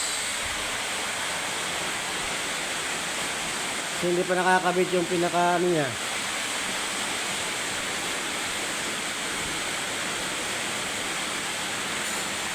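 Dense, steady roar of heavy rain pouring throughout near old corrugated iron roofing, with rainwater coming in and someone briefly speaking partway through.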